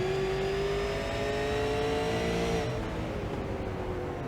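Race car engine heard from on board at New Smyrna Speedway, droning loud and steady as it holds a high rev, the pitch easing down slightly toward the end while the car turns through the banking.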